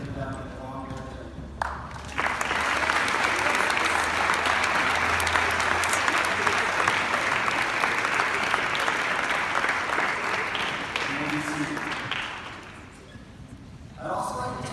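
Sustained applause from a school baccalaureate audience honoring graduates, a loud dense wash of clapping that rises sharply, holds steady for about ten seconds, then fades, with brief talk before and after.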